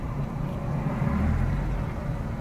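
A low, steady engine rumble as a car pulls away slowly in first gear from a fuel station, the drone swelling slightly and holding without any other sounds.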